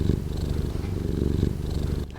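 A pet cat purrs close up, a steady rumbling purr with a regular pulsing rhythm throughout, heard alone without any talk.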